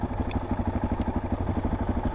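A motorcycle engine idles close by with an even, rapid low thumping pulse that stays steady and smooth throughout, with no voices.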